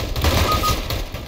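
Dense, continuous gunfire in the shooter CS:GO, a rapid rattle of overlapping shots heard loud and close for about a second.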